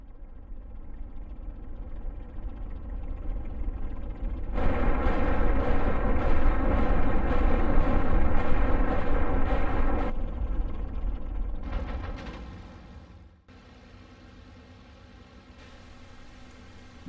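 Aircraft guns fire in bursts during an attack on bombers in the IL-2 flight combat game, a dense roar of cannon and engine noise building, stopping abruptly, then resuming in shorter bursts.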